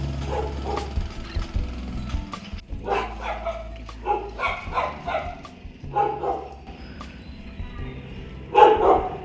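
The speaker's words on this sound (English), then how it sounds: "There's so many dogs around here" Dogs bark repeatedly in a narrow village street in Hanoi, a series of sharp woofs and yips at varying distances, with a louder burst near the end over a low background rumble.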